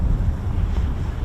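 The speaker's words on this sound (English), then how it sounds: "it's a bit blowy up here." Strong wind buffets an open hilltop spot near an RAF station, a loud, low, rumbling roar of gusts hitting the microphone, continuous throughout the short stretch with no talking.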